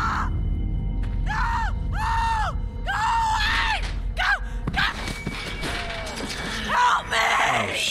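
A character screams in The Walking Dead video game: strained, wavering cries over a constant rumbling background, followed by a crash and mixed noise.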